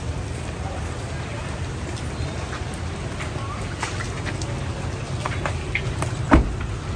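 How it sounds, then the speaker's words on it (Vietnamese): Heavy rain falls in a steady, dense hiss during a big-motorcycle delivery where a pickup truck is being loaded, with occasional faint knocks and brief distant sounds. "Thì bây giờ thì mưa quá"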